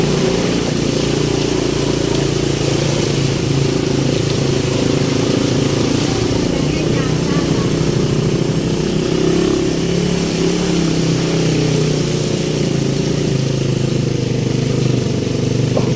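A motorcycle rides through shallow floodwater on a road near Cabanatuan, Philippines, its mid-pitched engine droning steadily and close, with constant splashing and road noise.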